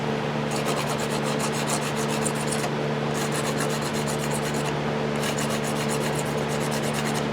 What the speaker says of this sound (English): This is a rasp file. It's got a rasp and a file on it.